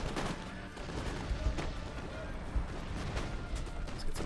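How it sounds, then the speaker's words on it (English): Massed musket volleys rolling along the battle line in a Total War video game, a continuous crackle of overlapping gunshots with sharper cracks and low thuds scattered throughout, dense and distant-sounding. "More forces firing up and down the line."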